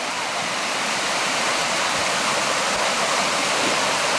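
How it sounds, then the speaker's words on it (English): A rushing creek rapid in a redwood grove pours continuously and loudly, a dense steady roar of churning water that holds even from start to finish. "Now listen to this stream."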